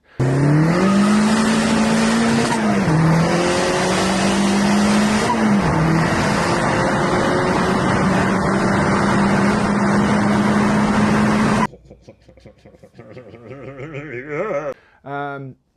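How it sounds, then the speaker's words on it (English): Turbocharged car with an aftermarket turbo setup running on a dyno, the engine loud and close, pitch climbing and dropping at each gear shift over about eleven seconds, then cutting off as talk follows. "this is James's car with my turbo setup, obviously in Mexico, and it was shifting"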